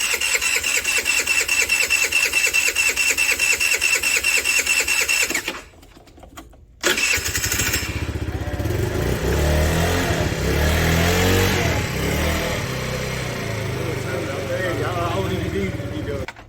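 A 50cc Tao Tao A1 Pony scooter engine buzzes at high revs with a steady rattling drone, cuts out briefly, then restarts and revs loudly and unevenly close by.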